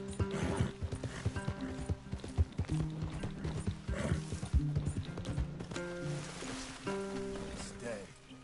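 Horse hooves clip-clopping at a walk in the Western video game Red Dead, a steady plodding beat mixed with rain, horse snorts and background music.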